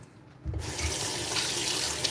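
A kitchen tap switches on and runs in a loud, steady gush over raw chicken being rinsed in the sink, continuing without pause after a brief quiet start.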